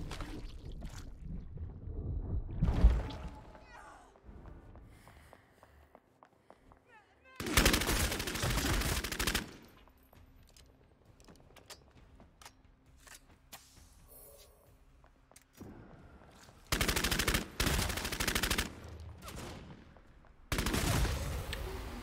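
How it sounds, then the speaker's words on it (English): Bursts of Tommy gun fire in Vampire: The Masquerade - Bloodhunt, several loud rapid volleys separated by quieter gaps with ambient game noise. "now I have a purple Tommy gun though"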